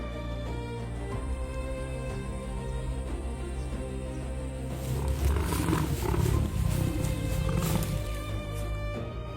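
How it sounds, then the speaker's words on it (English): A lion roars with a deep, rumbling, drawn-out call that swells louder and rougher in the second half, heard alone and fairly close. "A lion's roar is a declaration of authority."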